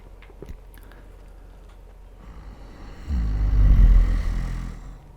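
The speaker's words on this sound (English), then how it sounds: "Sometimes there will be a rather large lorry or diesel powered vehicle" Large diesel lorry in GTA V passing by, a deep low rumble that swells after a quiet stretch, peaks loudly for about a second, then fades, with faint ticking sounds earlier.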